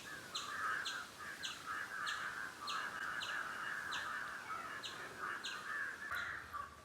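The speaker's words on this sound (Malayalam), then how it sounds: "ഇന്ന് കാക്കകളുടെ സംസ്ഥാന സമ്മേളനം തോന്നുന്നുണ്ട് കേട്ടോ." A crowd of crows calls in repeated, overlapping caws at a steady rhythm for the whole stretch, moderately loud and fairly close, during a morning outdoors in Thrissur, Kerala.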